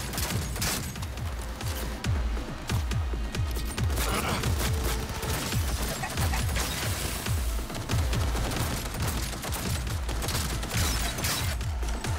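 Rapid bursts of gunfire in Cyberpunk 2077 pound out repeatedly with sharp, dense shots and booms, sustained for about twelve seconds at a fairly steady level with no speech over them.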